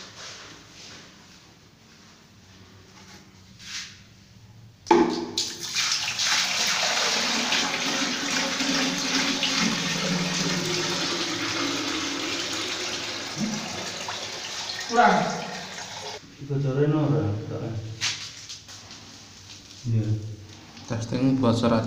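Water from a manual hose or bucket runs steadily into a newly installed toilet during a leak test, a continuous rushing stream lasting about ten seconds, with talk and handling noises before and after it.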